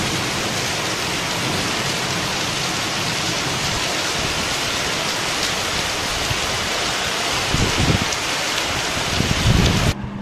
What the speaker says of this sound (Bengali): কি জোরে বৃষ্টিটা নেমেছে।